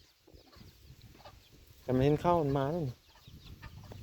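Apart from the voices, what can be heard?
chicken clucking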